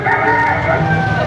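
A voice imitates a rooster crowing before dawn, a deception by the god Indra: one loud, drawn-out, strained crow held steadily close to the listener, with a dramatic retelling of the Ramayana around it.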